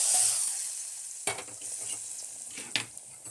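A fried mustard-seed tempering is added to a puli curry, giving a faint, soft sizzle with a couple of light stirring knocks against the pot.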